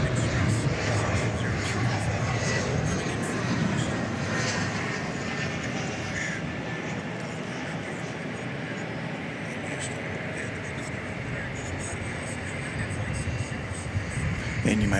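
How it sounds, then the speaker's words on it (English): United Express flight 6074, a regional airliner arriving from Houston at DFW Airport at night, gives a broad, steady jet roar with constant rushing noise throughout and faint distant airport sounds beneath. "the one that's going to emerge to see us is United Flight 6074, United Express 6074, coming in from Houston Intercontinental"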